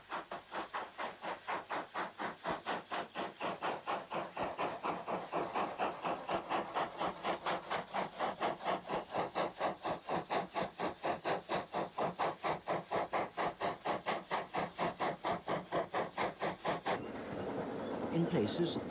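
A steam train on a preserved railway approaches in a valley, its rhythmic exhaust beats chuffing steadily and growing louder throughout, ending in a louder hiss of steam as it draws near.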